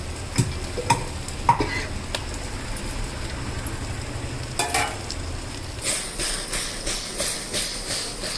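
Pieces of ash gourd drop into chili powder frying in oil for a pulusu, raising a steady broadband sizzle with scattered stirring clatter. The frying grows louder and denser in the last few seconds.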